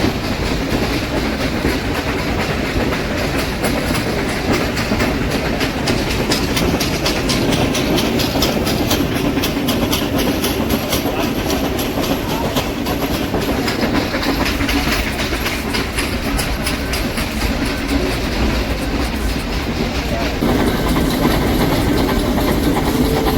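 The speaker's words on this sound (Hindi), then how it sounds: "ये जो लोकोमोटिव है वो स्टीम लोकोमोटिव इंजन है" The steam locomotive of the Ooty toy train hauls its carriages along the rails through the Nilgiri hills, a loud, continuous rumble and clatter heard close up from aboard, with no voices.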